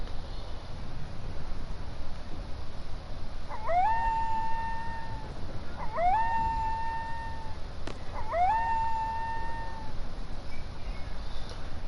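Mournful howling from a dog in the Final Fantasy game, three drawn-out rising howls repeating at steady intervals over a low background hum, fairly clear and alone with no talking.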